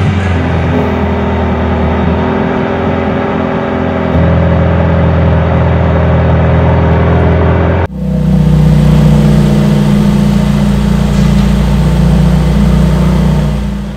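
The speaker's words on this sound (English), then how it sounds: "Exhaust switch to powerful." A Mercedes-AMG GT Black Series with its exhaust switched to the powerful setting, its engine loud and close as it idles and revs, the tone stepping up partway through before a sharper, heavier burst of exhaust noise.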